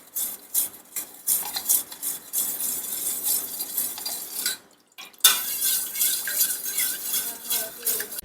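A spoon scrapes and clinks in a pot as a milk mixture for Pesaha paal is stirred, in irregular strokes with a short pause midway.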